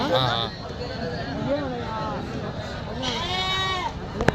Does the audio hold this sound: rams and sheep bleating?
yes